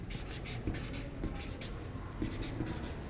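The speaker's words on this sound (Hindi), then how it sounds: "तो पहले एक बार परिभाषा ही थोड़ा सा लिख लेते हैं।" Pen on paper writing out a math definition by hand in a classroom lesson: quick close scratchy strokes in short repeated bursts, with no talk.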